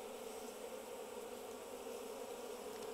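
Japanese honeybees kept in a Western-style hive box buzz in a dense, continuous drone, steady and fairly loud up close.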